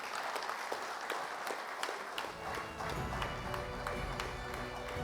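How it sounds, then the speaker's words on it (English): An audience applauds award recipients receiving medals and certificates at an awards ceremony, with sustained clapping from a large crowd heard at a moderate distance. "Can we hear a round of applause for them?"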